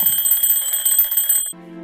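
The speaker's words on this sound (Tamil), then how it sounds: "இவன் ஒருத்தவன் நச நசன அலாரம் வச்சுக்கிட்டே இருக்கான்." A loud electronic alarm clock beeps in a steady, repeated pattern close by, then cuts off abruptly near the end, leaving a lower, softer tone.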